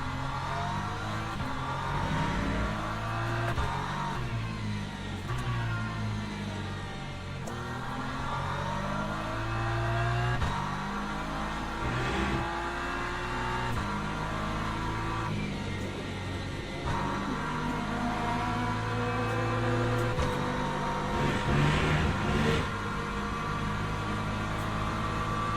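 An LMP2 race car engine in Le Mans Ultimate drones continuously, its pitch climbing and falling through repeated gear changes as it accelerates and brakes around the Portimao circuit, with no speech.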